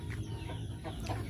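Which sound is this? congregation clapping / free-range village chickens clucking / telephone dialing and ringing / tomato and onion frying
free-range village chickens clucking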